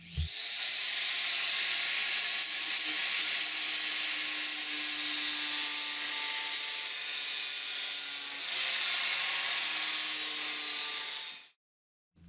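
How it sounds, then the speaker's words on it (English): A flap sanding disc spinning at 10,000 RPM rounds off the corners of a wooden box, giving a loud, steady, close abrasive whirring with shifting tones, then cuts out abruptly near the end. "Here's a close-up of the sanding disc I used to round off all the corners"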